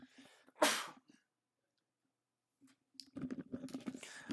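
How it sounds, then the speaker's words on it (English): A single sharp sneeze bursts out after a short word, followed by silence and then a man resuming speech. "I had to sneeze real quick"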